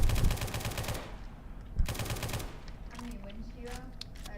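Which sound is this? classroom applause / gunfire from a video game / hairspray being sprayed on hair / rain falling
gunfire from a video game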